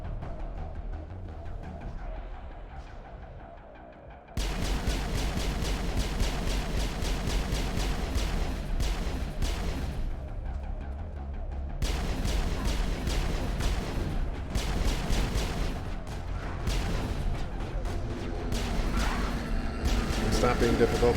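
Booming grenade blasts and gunfire from a zombie shooter video game ring out loud and dense after a quieter opening, repeating in heavy bursts with brief gaps, with talk mixed in.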